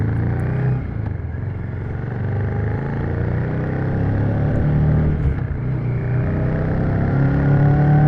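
Royal Enfield Shotgun 650 motorcycle engine running steadily at road speed, a loud continuous drone with rising and falling pitch as it works up through the gears, close and alone.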